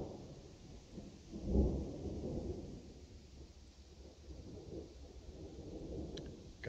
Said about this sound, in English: get ready for a storm.